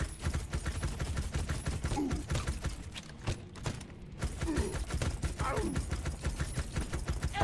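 Dense, continuous gunfire from a gun in the Shootas, Blood & Teef video game, rapid cracks running almost the whole time with a short lull in the middle, over a thumping game soundtrack.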